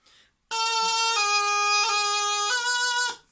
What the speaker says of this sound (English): it's a G on beat 1, an F on beat 1, beat 2, an F on beat 3, and then a high A on beat 4